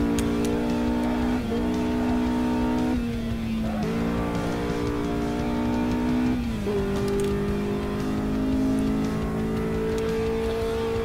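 A Renault 8 Gordini engine on the Nürburgring Nordschleife revs steadily and loudly, its pitch climbing through gears with several clear upshifts, the drone continuous and close throughout.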